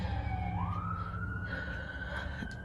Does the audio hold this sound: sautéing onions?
no